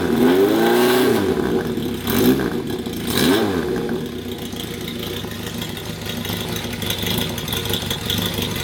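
A Honda CB750 K0 sandcast motorcycle with a Kerker exhaust revs hard several times near the microphone, each blip rising and falling, then settles into a loud, rumbling idle, with no speech.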